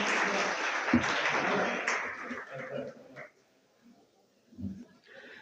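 Applause from an audience at a school prize-giving ceremony for a reading and calligraphy competition, a moderate burst of clapping that fades out within about three seconds, followed by faint murmurs and soft sounds from the hall.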